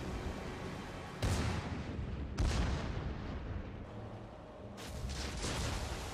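Battleship main guns firing shells in World of Warships, three heavy booming salvos spaced about a second apart, each followed by a rumbling decay.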